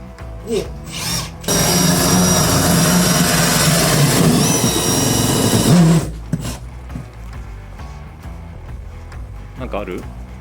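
A power drill bores a hole through a room wall while an air conditioner is being installed, whining loudly for about four seconds between short starts, with people talking around it.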